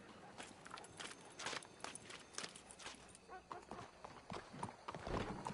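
Horse hooves clopping at a walk with an occasional whinny in Red Dead Redemption 2, a steady uneven rhythm of soft hoof falls against low ambient noise, with no one talking.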